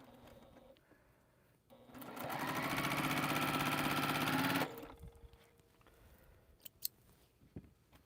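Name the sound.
sewing machine sewing quilt pieces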